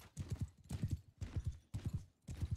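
Horse hooves clip-clop in Mount and Blade 2 Bannerlord, a steady galloping rhythm in repeated bursts of thudding beats, close and moderately loud, with no talk.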